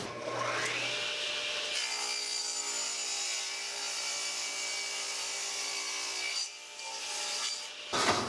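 A hand saw cuts a wooden cabinet piece in a steady run of rough, rasping strokes that carries on for several seconds, close and fairly loud, then breaks off and starts again briefly near the end.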